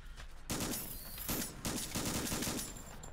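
Pistol shots in the horror video game Gynophobia, a quick series of sharp, loud game gunshots fired in bursts over busy game sounds.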